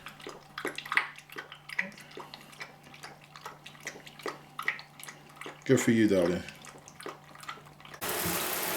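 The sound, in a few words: puppy being bathed with running water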